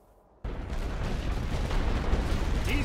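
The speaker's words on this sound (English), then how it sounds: "they're firing from the trenches" Trench gunfire in the video game Great War Western Front: after a quiet half-second, a dense, continuous roar of rifle and artillery fire erupts and holds steady and loud, with booming low rumble throughout.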